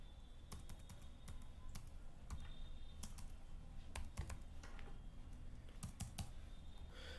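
Python code being typed on a computer keyboard: a steady, irregular patter of soft key clicks, quiet and close, continuing throughout without talking.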